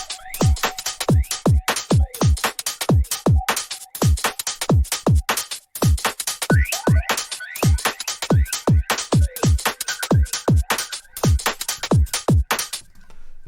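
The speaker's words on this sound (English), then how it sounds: "But this is the texture we got out of it by resampling it through Tantra." A resampled texture run through a Tantra effect plugin for a UK garage track: rapid rhythmic bursts of clicky, metallic transients with downward-sweeping tones, repeating steadily and loud throughout.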